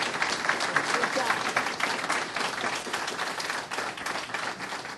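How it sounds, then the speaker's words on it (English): An audience at an evening forum for two candidates in a 47th district Democratic primary applauds. The clapping is steady and fairly even for the full length, with voices faintly mixed in. "Let's give a nice round of applause to both of our candidates this evening."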